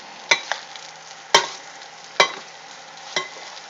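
Shrimp and noodles frying in olive oil, a steady close sizzle broken by four sharp scrapes and clanks of a utensil stirring the pan.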